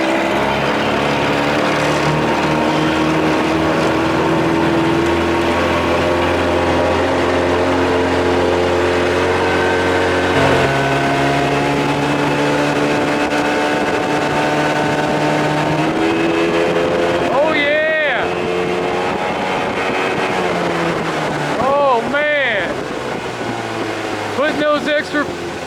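Evinrude 30 hp outboard motor running steadily on a boat, a loud continuous drone with a shifting pitch near the middle and occasional talk toward the end.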